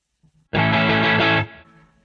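Harley Benton DC 60 Junior electric guitar with a slightly overdriven tone: a single loud strummed chord rings for about a second, then is cut off and fades into quiet amp hiss.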